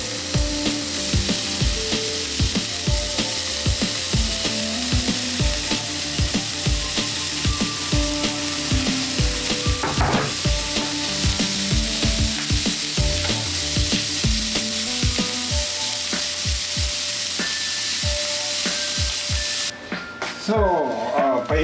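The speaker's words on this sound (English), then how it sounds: "So now we're gonna render the bacon." Bacon renders in a hot pan for maple bacon ice cream, with a steady, dense sizzle and crackle running loudly and continuously throughout.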